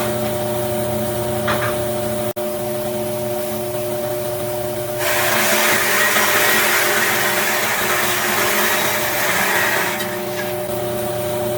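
Table saw ripping wooden strips against the fence for an end grain cutting board, a steady motor whine that grows louder and harsher as the blade bites into the wood, then eases back.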